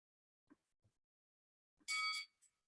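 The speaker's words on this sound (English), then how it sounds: "Let's ring the bell." A single bright metallic bell strike rings out once, loud and clear, in an otherwise quiet indoor setting, followed by a faint second tap, with soft brief sounds just before.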